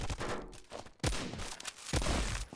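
A shotgun fires in a mobile shooter video game, with loud booming blasts and rattling bursts of gunfire, two sharp heavy shots standing out over dense continuous action noise.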